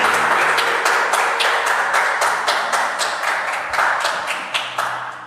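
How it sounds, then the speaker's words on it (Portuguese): Church congregation applauding together in a dense, steady burst of many hands clapping, loud and close, slowly fading over several seconds with no voices over it. "aplauda o Senhor mais uma vez"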